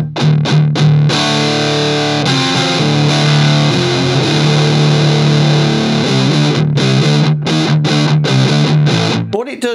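Electric guitar run through an Electro Harmonix Satisfaction Plus fuzz pedal with the attack knob turned fully up, playing loud, thick, distorted chords and riffs continuously, with brief gaps between strummed phrases.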